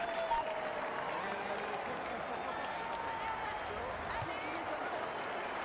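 In a Tour de France 2023 video game, a roadside crowd cheers the race leader at a time trial start: a continuous, fairly quiet wash of clapping and crowd noise that stays steady and slightly distant.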